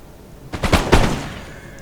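Musket volleys fire at charging cavalry in the Empire Total War video game: a few sharp, crackling bursts land in quick succession, loud and close, followed by a fading rumble, with no talking.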